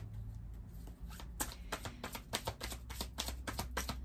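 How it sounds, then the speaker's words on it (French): Oracle cards from a love-compass deck being shuffled by hand, a quick run of crisp riffling flicks after a quieter pause, close and fairly soft with no talking. "On va prendre quelques cartes de l'oracle de la boussole amoureuse."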